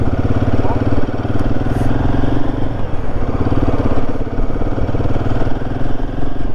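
A 450cc Royal Enfield Himalayan motorcycle idles close by with a loud, even single-cylinder thump that continues steadily throughout.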